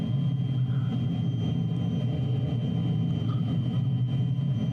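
Light aeroplane in flight while being snap rolled, a steady droning engine rumble with a low hum, constant and fairly loud throughout with no voices.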